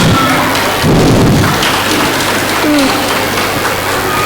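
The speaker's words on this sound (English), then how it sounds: "I think we deserve a huge round of applause." A preschool graduation audience at a school event applauds as a dense, steady wash of clapping that stays loud and continuous throughout, with faint voices underneath.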